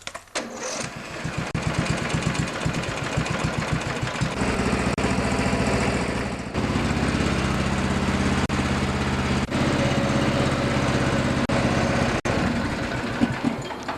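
A lawn tractor's Briggs & Stratton OHV engine, hard to start and smoking from the muffler, cranks and catches, then runs steadily at a loud, rough, buzzing idle with a brief dip partway through.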